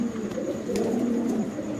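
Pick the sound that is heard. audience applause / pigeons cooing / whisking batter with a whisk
pigeons cooing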